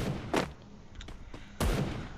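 The Woodpecker rifle fires in Garena Free Fire, giving a couple of sharp, loud shots about a second apart over a low game-ambience background.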